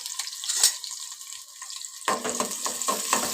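Onion and green chillies drop into hot oil for a greens dish, starting as a faint crackle and then bursting into a brighter, louder sizzle partway through, with no voices.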